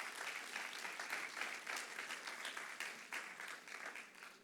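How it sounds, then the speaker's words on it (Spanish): Church congregation applauding during a Spanish-language service, a loud, sustained wash of many hands clapping evenly throughout, with no speech over it. "¿Cuánto le da un aplauso al que vive para siempre?"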